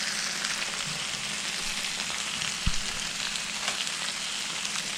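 A steak sizzles on a George Foreman grill as a steady, close frying hiss, with one brief thump partway through and no voices.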